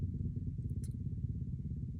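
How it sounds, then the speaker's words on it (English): Motorcycles pass outside a room, a continuous low rumbling engine drone that holds steady throughout with a faint brief higher tick partway through. "Motorcycles."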